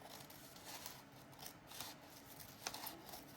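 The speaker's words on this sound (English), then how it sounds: "I can fit my scissors in. We're gonna cut along the top." Scissors cut through a paper sewing pattern with soft, faint, steady snipping and crisp rustling of the sheet, close up and without talk.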